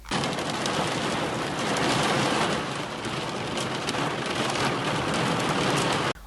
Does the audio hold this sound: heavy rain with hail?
yes